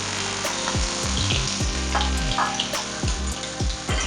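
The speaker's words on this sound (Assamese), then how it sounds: "এইখিনি অকণমান সময় মই লৰাই ভাজি ল'ম।" Garlic and green chillies sizzling steadily in a hot pan while a utensil stirs and scrapes through them in repeated close strokes.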